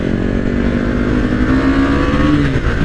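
Close, loud engine drone of a Kawasaki Z900 motorcycle weaving through city traffic, a steady rumbling hum with slight rises in pitch as it accelerates, plus wind and road noise.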